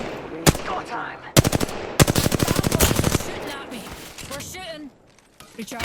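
Automatic weapon fire in the video game Apex Legends, several loud single shots followed by a fast rattling burst, then quieter shots, with a player's voice talking between them.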